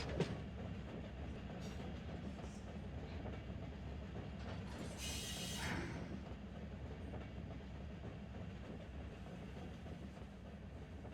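Freight train running in the Run8 train simulator, a steady rumbling roll with rhythmic wheel clatter and a brief hiss partway through, moderately close and continuous.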